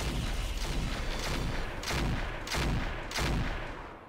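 Mech weapons firing in the video game Roguetech, a series of heavy, booming shot bursts in a steady rhythm of about four loud salvos, close and alone without talk.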